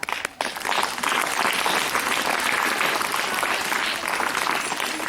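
Audience at a school magic show clapping, a dense, continuous wash of applause from many hands filling the room, loud and sustained for several seconds without speech.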